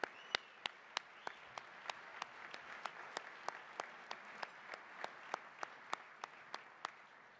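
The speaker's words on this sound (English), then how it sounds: "Let's hear another round of applause for all of our new inductees" Sparse, faint applause at a 2018 coaches hall of fame induction ceremony: separate sharp hand claps at a steady, unhurried pace over a quiet room hum, with no voices.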